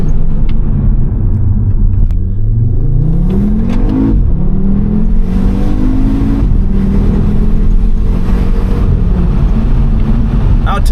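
A 2014 Audi RSQ3 compact SUV engine revs loudly and close, its deep rumble climbing in pitch through several rising sweeps and settling back, with no voices.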